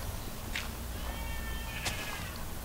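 A Minecraft sheep gives a short bleat over steady background noise in the game, with a brief clicky sound close after it.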